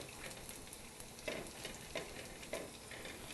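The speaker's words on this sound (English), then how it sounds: "So let's get a quick stir on this." Tomatoes sizzle quietly in a pan while a utensil stirs them in three or four soft, rhythmic scraping strokes over the continuous low frying hiss.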